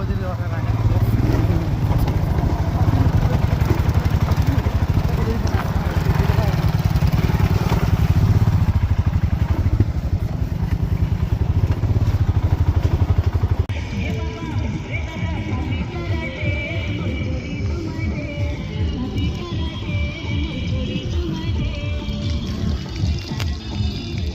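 A motorcycle ridden out toward a riverside runs with a constant loud engine drone that eases slightly partway through, under ongoing conversation.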